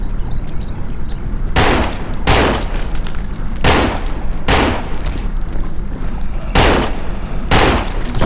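Gunfire in the zombie survival game No More Room In Hell: five or six loud, sharp shots spaced about a second apart over a low constant background rumble, with no voice heard.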